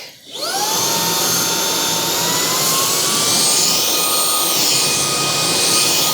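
A Gevi cordless vacuum cleaner with its wand attached starts up and runs with a loud, steady high-pitched whine and rushing air. The motor pitch rises briefly at switch-on, then holds close and constant.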